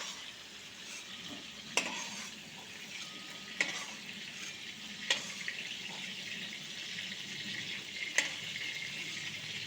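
Prawns frying in hot oil in a pan, a low continuous sizzle with a few sharp spatula scrapes and clinks scattered across it, fairly quiet and close.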